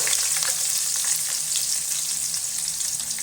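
Chopped onions frying in hot oil for masala rice, a dense, steady, close sizzle with light crackle throughout and no voices.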